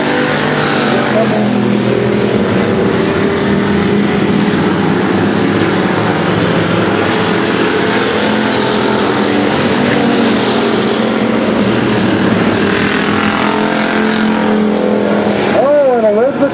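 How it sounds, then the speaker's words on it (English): Race cars roar continuously around an oval track during a novice heat race, engines loud and steady throughout as they come off turn four toward the white flag, with an announcer talking over the noise. "Elizabeth Jordan, that first place car just caught out."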